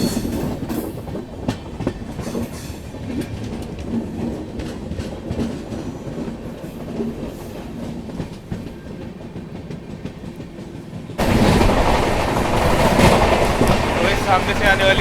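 Trivandrum Rajdhani Express (12431) running on rails, a steady clickety-clack of wheels and rumbling carriages throughout, growing louder and harsher near the end as an oncoming train passes close by; a voice can be heard faintly under the noise.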